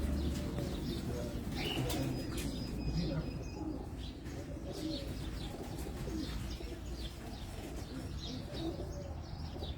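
Pigeons on a rooftop in Abu Dhabi coo softly under steady background noise, with occasional chirps and a brief wing flutter while someone talks.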